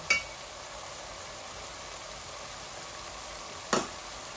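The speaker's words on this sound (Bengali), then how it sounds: "আর একটু ভাজা ভাজা হোক" Chicken bhuna frying in a pan, a steady even sizzle close by, with two brief clatters at the start and near the end.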